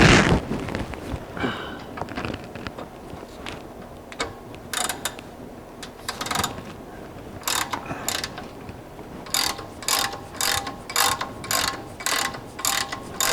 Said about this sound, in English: I'm gonna go get a ratchet.